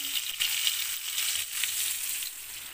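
Cauliflower frying with turmeric in a pan, a steady bright sizzle and crackle close by, with faint stirring underneath and no talk.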